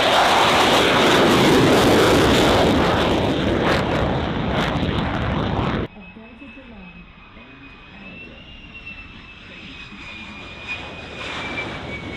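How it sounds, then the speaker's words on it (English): A Royal Australian Air Force F/A-18 Super Hornet fighter jet takes off with a loud, sustained roaring engine blast that cuts off abruptly, leaving quieter wind and ambient noise behind. "Royal Australian Air Force, RAAF. A. 18 Super Hornet fighter jet takes off an impressive display by Australian Defence Force."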